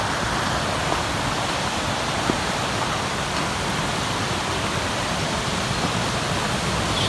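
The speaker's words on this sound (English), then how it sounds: "It's just leading us down to a beautiful section of the river." A river in the Great Smoky Mountains, beside the Chimney Tops Trail, pours in a dense, unbroken rushing roar that fills the scene at constant loudness with no other sounds standing out.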